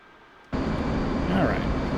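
An F/A-18 Hornet jet engine throttles up in the DCS World flight simulator. A quiet hum gives way to a sudden loud, steady roar with a faint rising whine near the end.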